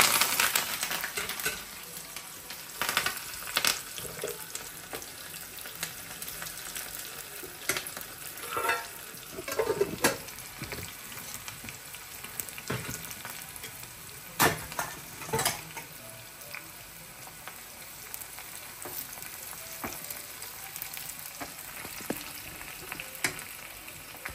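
Garlic cloves, two dried red chillies, a small onion and curry leaves sizzle and crackle steadily in hot oil for a Rayalaseema-style okra dish, with scattered sharp pops and occasional stirring clinks throughout.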